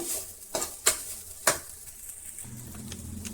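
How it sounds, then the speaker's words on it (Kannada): Chili powder and spices sizzling in hot oil in a pan while a spoon stirs them, with a few sharp scrapes and clinks against the pan over a steady frying hiss, close and moderately loud. "ಎಲ್ಲ ಮಿಕ್ಸ್ ಮಾಡೋಣ ಇದು ಒಂದು ನಿಮಿಷ ಫ್ರೈ ಆಗಲಿ"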